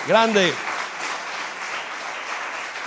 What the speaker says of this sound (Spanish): Denle un aplauso, venga, otro más grande